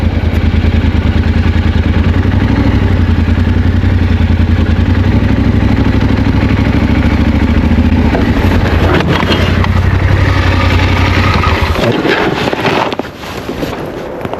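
An adventure motorcycle rides along a snowy forest road, its engine droning steadily and loud under wind buffeting the microphone, before the sound breaks into clatter and scraping near the end.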